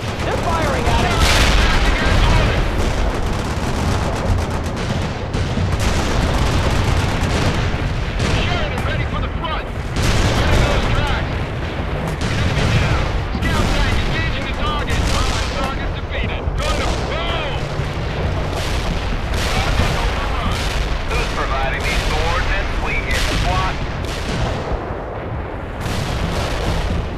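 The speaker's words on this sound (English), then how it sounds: "They're firing at us!" Battle gunfire in World in Conflict rattles on for the whole stretch: a loud, dense barrage of shots, bursts and booming impacts, with voices shouting beneath it.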